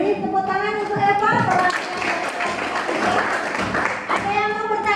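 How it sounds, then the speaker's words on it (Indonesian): Classmates in a classroom applaud for Eva, a burst of scattered clapping mixed with children's voices calling out over it. "Beri tepuk tangan untuk Eva."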